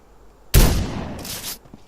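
A single loud gunshot in a GTA-based DayZ-style video game booms up close, then decays into a rushing, crackling tail that fades within about a second.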